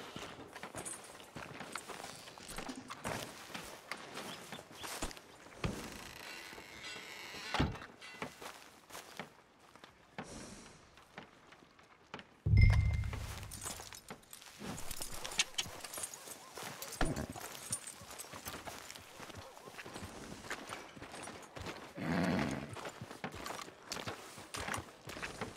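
Horse hooves clip-clopping in the western video game Red Dead Redemption 2, intermittent footfalls and a brief louder thump midway, with faint game ambience and occasional speech around them.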